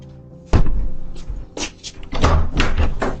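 A door is knocked and bumped, caught by a doorbell camera: a sharp thump followed by several irregular knocks and rattles close to the microphone, without speech.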